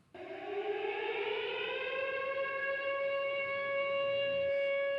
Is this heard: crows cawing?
no